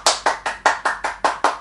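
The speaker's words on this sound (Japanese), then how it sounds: "拍手でお迎えいただきたいと思います。" Rhythmic hand clapping welcoming a blues harmonica player on a harmonica variety show, eight sharp, evenly spaced claps about a fifth of a second apart, close and fairly loud with no talking.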